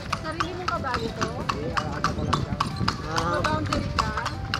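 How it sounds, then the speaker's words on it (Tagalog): Horse hooves clip-clop steadily on pavement as a kalesa horse-drawn carriage rolls along, a close, even rhythm of sharp strikes running throughout while people chat over it. "Sarili mong kabayo to?"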